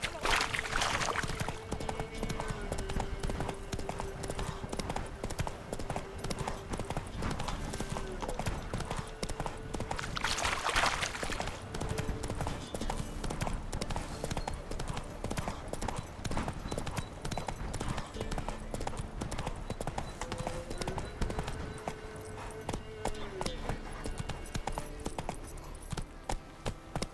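Roach, a horse in The Witcher 3: Wild Hunt, gallops with steady, rapid clip-clop hoofbeats that run the whole time, layered over game music and ambience, with a brief whinny and a voice speaking partway through.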